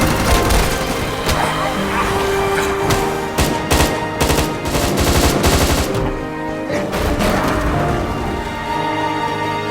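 Gunfire in the zombie film Peninsula, dense rapid bursts of shots over a loud, busy background of music and effects, continuous and heavy throughout.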